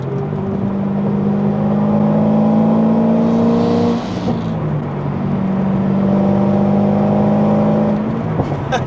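A Corvette ZR1 accelerating hard in third gear, its engine note climbing steadily in pitch with a loud, close whine from inside the cabin, dipping at a shift before rising again.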